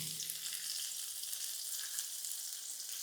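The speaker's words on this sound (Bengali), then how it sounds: "পেঁয়াজটাকে ভালো করে ভেজে নিতে হবে" Onion frying in oil with cardamom in a pan, producing an even, steady hiss of sizzling that carries on quietly without a break.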